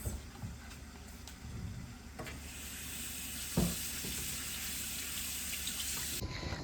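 Tap water runs steadily into a sink with a bright hiss, punctuated by a few soft knocks and clatters as vegetables are rinsed.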